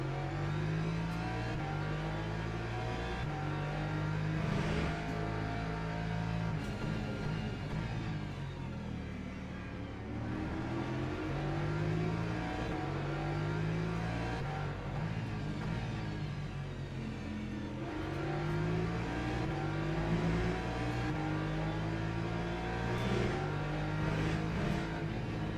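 A car engine in a racing video game set at Monza and Portimao, revving and accelerating continuously, its tone rising and falling through gear changes with no talking.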